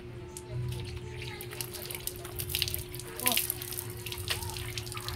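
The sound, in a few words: water being poured over a man to rinse him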